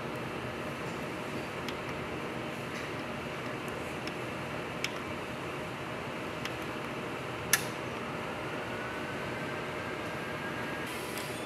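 A Mutoh wide-format printer at CPD-1 runs a print-head cleaning cycle, giving a quiet, steady mechanical whir with a few faint, isolated clicks and ticks.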